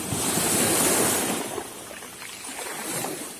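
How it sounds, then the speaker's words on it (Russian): Sea waves wash onto the shore at Gelendzhik in December, a steady broad surf hiss swelling and easing, with gusts of wind buffeting the microphone and no voices. "Море."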